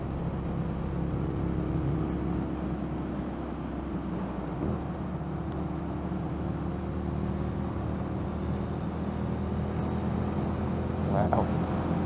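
An Indian FTR 1200 motorcycle cruising in sixth gear gives a steady, droning engine and wind rumble that holds even and continuous, with a rider talking intermittently over it.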